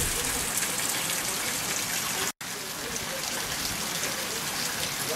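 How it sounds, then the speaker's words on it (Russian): Steady, dense hiss of rain falling, broken by a split-second gap, with no voices. "и дождь тут такой идет"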